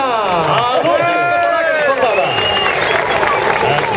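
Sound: crowd applauding cyclist Juan Antonio Flecha

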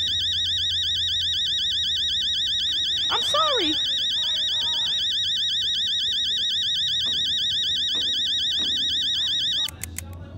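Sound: alarm clock ringing in a video game

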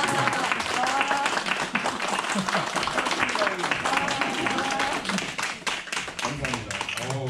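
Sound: audience applause at a workshop

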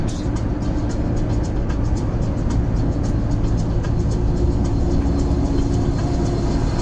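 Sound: truck overtaking on the N3 national road

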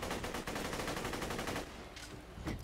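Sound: gunfire in the video game Borderlands 2

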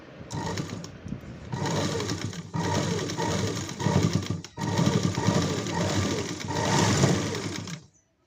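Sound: sewing machine stitching three sides of old cloth

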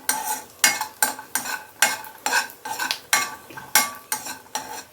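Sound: cashews frying in a pan

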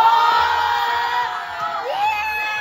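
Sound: party guests screaming and cheering for a balloon game winner

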